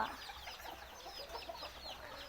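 Chickens and chicks clucking and chirping in a fighting cock farm, many small overlapping calls scattered close by over a steady farmyard background, no voices.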